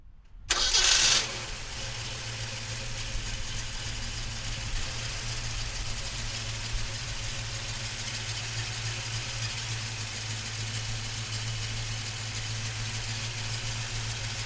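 A 1967 Ford Mustang GT500 engine cranks briefly and catches. It then settles into a steady, throaty idle that keeps rumbling evenly for the rest of the stretch, with no talking.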